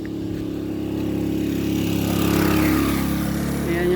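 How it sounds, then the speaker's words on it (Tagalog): A motorcycle engine idles and revs while the bike is turned and maneuvered on a family outing in the mountains, a loud, close, continuous rumble that swells slightly midway. "Teka, iliko muna ni Papa yung motor."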